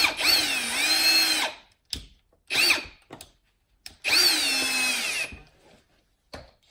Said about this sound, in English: especially when you're using a drill.